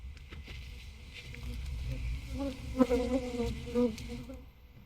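Honey bees at a hive just moved from a nuc into a full hive make a steady, close insect drone that swells slightly midway through.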